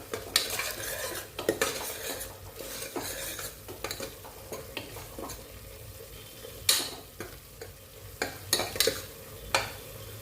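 A spoon stirs minced meat ball gravy seasoned with salt and ginger garlic paste in a pan, with irregular scraping clinks and soft sizzling throughout, louder strokes around the middle and end, and no talking.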